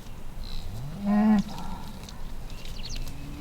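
A crossbred cow on a farm gives one loud, clear moo lasting under half a second, rising out of a quiet outdoor background with faint birdsong and soft ambient rustle around it.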